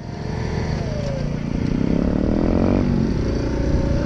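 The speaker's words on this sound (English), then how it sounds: "Oh, the Grom sounds so good with an exhaust on it." A Honda Grom motorcycle engine fitted with an aftermarket exhaust idles with a raspy exhaust note, then revs up and climbs in pitch before settling back, close by and loud.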